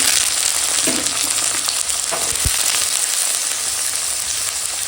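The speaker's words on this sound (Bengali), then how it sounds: "তারপর দিয়ে দেব পেঁয়াজ শুকনো লঙ্কাটাও দিয়ে দেবো দিয়ে একসঙ্গে ভাজি করব আর দিয়ে দেবো কেটে রাখা আলু" Onion, dried chili and potato frying in hot oil, a loud, dense, steady sizzle close up with a few faint scrapes of a stirring utensil and no voices.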